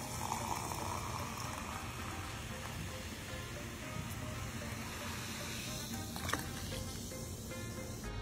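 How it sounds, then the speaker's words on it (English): Lemon lime soda pours steadily into a fishbowl of sangria, a continuous fizzing, bubbling stream of liquid that stays close and even throughout, with no talking over it. "I got two bottles, lemon lime soda, to pour that in."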